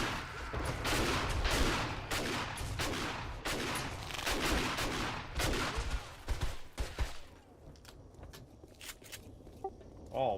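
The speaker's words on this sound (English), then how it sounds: "Finish her off with a shotgun." Rapid bursts of shotgun and gunfire blast through a horde night battle in the survival game 7 Days to Die, dense overlapping shots and impacts for most of the stretch before thinning into scattered pops near the end.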